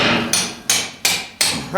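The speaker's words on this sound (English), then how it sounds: "You drive that punch right into the side of that filter." Hammer driving a centering punch into the side of a steel oil filter on a Mack truck, four sharp metallic strikes in a steady rhythm, loud and close with ringing decay between blows.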